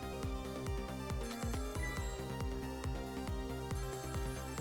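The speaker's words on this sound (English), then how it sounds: "The phone is ringing." Telephone in the Ghost Trick: Phantom Detective video game ringing in a steady repeating pattern of bright electronic rings over a rhythmic background music track, moderately loud.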